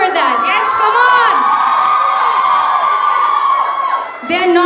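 A college day crowd cheers and whoops loudly for performers, with high voices shouting in a sustained roar that dips briefly before rising again.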